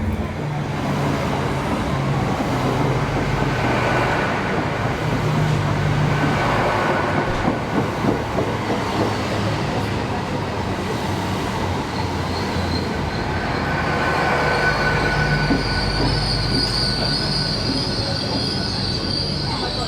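A train rolls into a London station with a continuous rumble, and its wheels squeal high and metallic toward the end as it slows.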